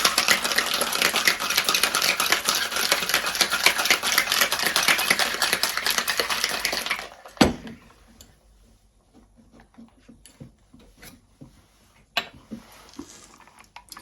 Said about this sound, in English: I'm going to close my shaker and give it a good shake for 10 seconds